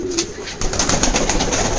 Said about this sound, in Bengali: এখান থেকে কিছু কবুতর বিক্রি হবে,